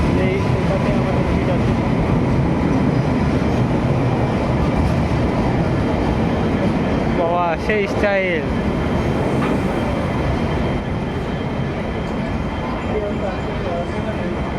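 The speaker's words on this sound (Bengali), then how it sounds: "এটা হচ্ছে শালিমার এক্সপ্রেস" A long-distance Shalimar Express rumbles steadily at a station platform, loud and close with continuous rolling noise and a brief squeal midway, while a person talks over it.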